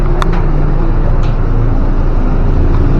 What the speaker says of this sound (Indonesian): Terus kalau AC dinyalain tuh kayak agak bunyi berisik tuh.